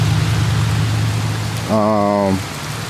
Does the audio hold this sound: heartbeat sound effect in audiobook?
no